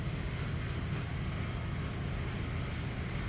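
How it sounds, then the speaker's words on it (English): A ferry crossing open water near San Juan Island churns along under steady wind buffeting the microphone, producing a constant low rumble and broad rushing noise with no break. "this is me talking behind the camera while riding a ferry"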